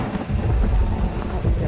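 Heavy rain and rumbling thunder in Phasmophobia at the Maple Lodge Campsite, a loud, close, continuous downpour with deep low rolls of thunder underneath.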